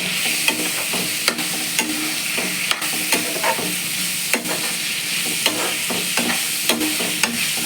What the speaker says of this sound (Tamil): அதையும் நல்லா வதக்கலாம்